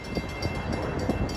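Diesel commuter train rumbles past at rush hour on the railroad at New Hyde Park, a dense, steady rolling roar with faint rhythmic wheel clatter, close and fairly loud, with no voices.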